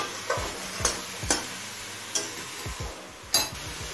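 A vegetable chop filling is sautéed with salt and spices in a pan, with soft sizzling under a scatter of spatula scrapes and taps at irregular intervals, fairly quiet and close.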